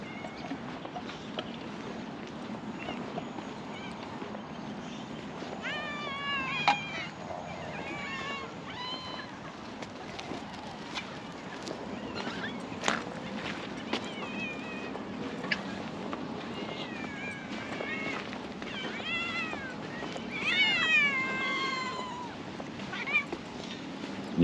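Several cats meow outdoors on a wildflower walk at Knights Ferry, with repeated short meows spread through the stretch, moderately close, over a steady background hiss and scattered small noises.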